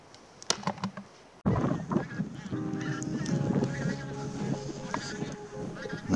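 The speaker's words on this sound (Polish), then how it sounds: "na filmie widzieć będziemy dwa gatunki dzikich gęsi. Gęgawę i gęś zbożową." Wild greylag geese and bean geese honking in open country, with scattered calls over a windy background after a sharp bump, some honks close and others farther off.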